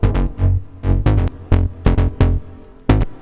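Plucked, heavily chorused synth tones from an electronic instrumental remake, played as a series of separate bright notes with a wavering, detuned shimmer, loud and close with no talking.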